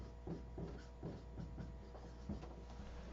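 Marker strokes squeak and rub against a whiteboard in a steady series of short scratches, faint and close, with a low room hum underneath.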